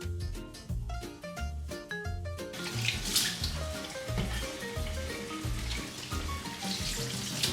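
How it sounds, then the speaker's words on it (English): Water runs steadily from a tap as a cast iron pan is rinsed and scrubbed with a sponge and dish soap, with background music playing throughout. "I always wash it first with warm water and a little dish soap using a sponge"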